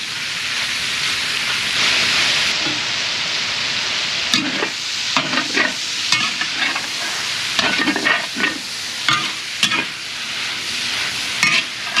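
Sausage for jambalaya browns in a pot over an outdoor cooking setup, a loud continuous sizzle broken by repeated scraping stirs and clatters of a utensil against the pot.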